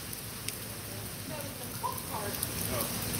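Rain falls steadily on a street in downtown Charleston at night, a dense constant patter with a few faint voices over it and no pause.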